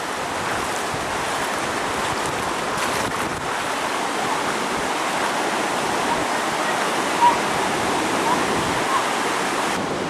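Someone wading through about nine inches of floodwater at a flooded camp, the water a steady, loud rushing and sloshing wash throughout, with no talk.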